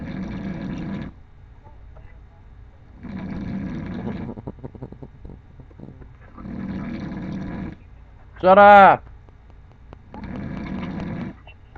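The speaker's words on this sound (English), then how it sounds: "he's snoring like a motherfucker." A person snoring in deep, rasping bursts that repeat roughly every three seconds with quiet breaths between, close and loud; one short shout breaks in between snores.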